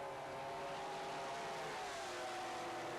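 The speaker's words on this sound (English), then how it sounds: "A huge howl of engines" Formula 2 racing powerboats with 2-litre V6 Mercury engines roar in a steady, distant howl, a continuous faint drone with slowly shifting pitch and no voices.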